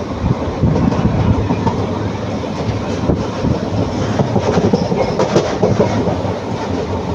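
A train running through forest between Coimbatore and Palakkad in India rumbles steadily with rhythmic clickety-clack of wheels on rail joints, loud and close from on board, with no talk.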